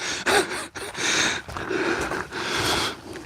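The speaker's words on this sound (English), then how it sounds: "Can you hear us breathing like a Clydesdale pony?" Heavy, rasping breaths come from hikers climbing the Lake District fells, loud and close to the microphone in a run of long, labored inhales and exhales with brief pauses.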